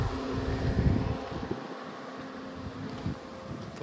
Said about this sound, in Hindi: एसी चल रहा है अब इसका